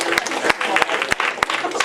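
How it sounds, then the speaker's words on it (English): Audience applause from students at a high school particle physics lecture on dark matter, brief loud claps breaking through a busy crowd clatter for under two seconds. "let's give Mark a round of applause."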